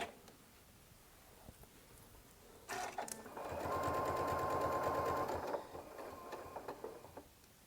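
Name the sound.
sewing machine stitching a lining piece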